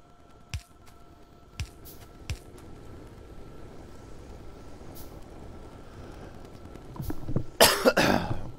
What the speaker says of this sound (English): Oh yeah, coughing to death here.